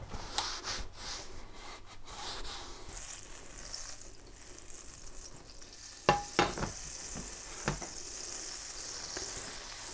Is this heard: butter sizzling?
yes